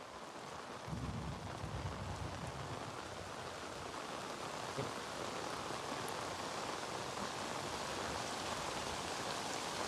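Heavy monsoon rain pours down outdoors in a dense, steady roar that continues without a break.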